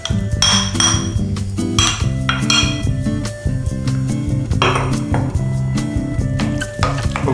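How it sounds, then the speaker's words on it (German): Ricotta and beaten egg stirred in a bowl, with busy, repeated clinks of a utensil against the dish running throughout, close and loud, with a faint tonal ring under it. "Ich tue 100 Gramm Ricotta und ein aufgeschlagenes und ein bisschen verquirltes Ei drunter rühren."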